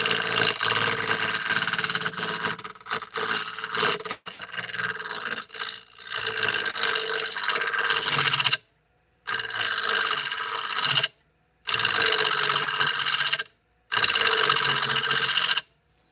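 Wood being smoothed on a lathe during a live turning session: a steady, loud rasping whir of the tool against the spinning piece, broken by several short pauses where the cutting stops and resumes.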